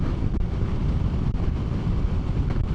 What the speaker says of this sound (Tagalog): Taas ang hangin eh oh